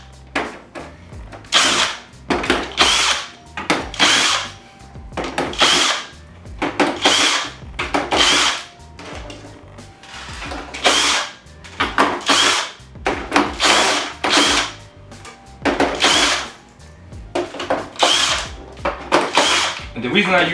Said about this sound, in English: the reason I use a drill is because it's a lot quicker for me